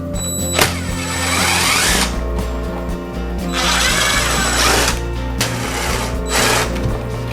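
Power tool whirring steadily on a Honda MT250 Elsinore motorcycle while the mud flap is pulled off, loud and close, with brief dips and restarts in a continuous mechanical drone.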